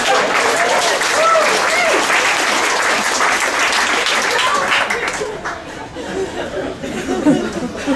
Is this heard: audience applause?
yes